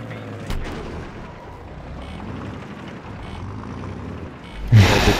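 Battlefield 3 multiplayer on the Strike at Karkand map: distant gunfire and rumbling explosions under a constant battlefield din, ending in a sudden loud, close blast.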